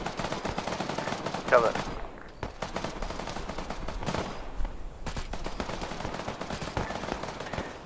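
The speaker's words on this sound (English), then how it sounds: "I'm hearing gunshots coming in from the northeast," Scattered gunshots crack at a distance, some in quick bursts, while a voice speaks briefly over the steady background noise.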